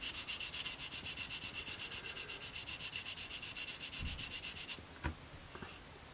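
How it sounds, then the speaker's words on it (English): A close, steady back-and-forth rasp of sanding on the plastic of an Airfix 1/72 Jet Provost model kit, with even rhythmic strokes for several seconds, then stopping, followed by a couple of faint knocks. "So that's the sanding actually done"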